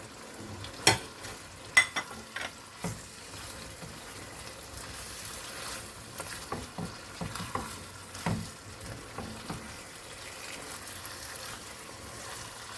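Crushed fried onions stirred into a pan of Kerala-style duck roast, giving a steady low sizzle and frying crackle with scattered scraping and clinking stirring strokes, sharpest near the start, no voices.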